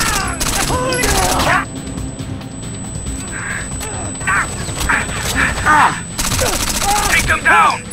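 Heavy bursts of automatic gunfire from the Rainbow Six: Vegas video game, with a loud volley at the start and another near the end, while game voices and effects fill the quieter middle.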